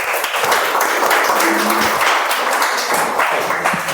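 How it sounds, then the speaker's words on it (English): At an international speech contest, the audience gives a round of applause, a loud, continuous burst of clapping filling the room for about four seconds. "Let's have a round of applause."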